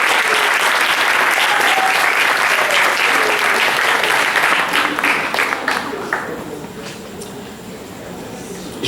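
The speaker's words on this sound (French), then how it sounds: "applaudissez-les une première fois." Loud, dense audience applause at a school diploma and certificate ceremony, a steady roar of many hands that gradually thins and fades toward the end.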